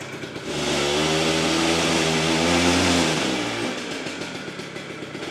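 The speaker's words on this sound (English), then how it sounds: "Seems to run pretty good there in first." An old Harley-Davidson pulls away in first gear, its engine swelling to a loud, rising roar, holding, then easing off as it passes and fades to a rumble.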